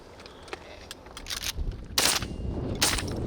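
Shotgun blasts during a late-season goose hunt in Ontario: two or three sharp, loud reports in quick succession over quieter outdoor background, with a few fainter pops before them.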